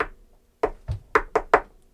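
Knuckles rap on wood five times in an uneven rhythm, a single knock followed by a quicker cluster of four, sharp and close against a quiet room.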